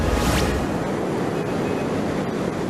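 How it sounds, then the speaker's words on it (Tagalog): Strong floodwater current rushes against a dike in Barangay Poblasyon, Malalag, Davao del Sur, a steady, loud broadband roar that holds without a break and has no voices. "Malakas ang agos ng tubig sa dike na ito sa Barangay Poblasyon, Malalag, Davao del Sur kahapon."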